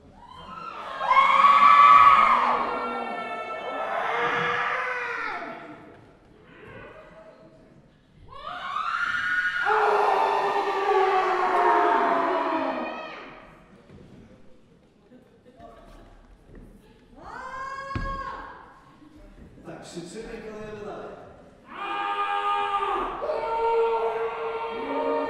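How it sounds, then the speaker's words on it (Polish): A group of people scream their anger into pillows, producing several loud, muffled bursts of yelling separated by short pauses, with shouts from different voices overlapping across the stretch. "Wykrzyczeć swoją złość w poduszkę"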